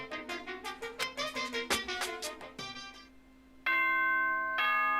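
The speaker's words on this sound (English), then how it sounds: "Ding dong, ding dong." A doorbell-style chime from the video game Danganronpa rings out as a run of bright, rapidly repeated bell tones, then sustained chords that hold loudly to the end, with no voices.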